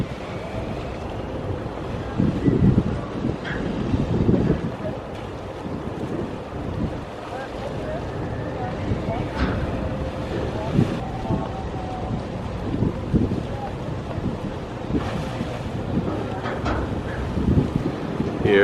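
Heavy wind buffeting and low rumble as the cruise ship Explorer of the Seas departs Falmouth, with water wash and distant indistinct sounds beneath the constant gusty roar.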